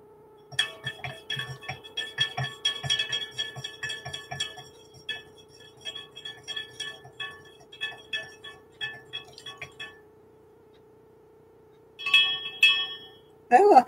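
Chopstick stirring inside a glass flask during a craft night, producing a quick irregular run of bright clinks and ticks over a steady hum, pausing then resuming in short bursts, with a voice briefly at the end.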